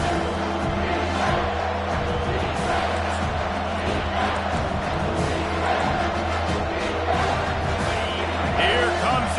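A home stadium crowd roars in a Madden football game on third down, with a dense, steady wash of cheering and noise throughout, underneath game sounds and some voices.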